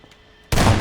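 Sudden loud burst of gunfire and explosion from the video game Half-Life 2 erupts after near silence, a dense, sustained blast that fills the short moment without any talk.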